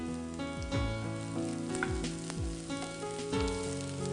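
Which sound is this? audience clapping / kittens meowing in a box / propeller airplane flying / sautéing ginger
sautéing ginger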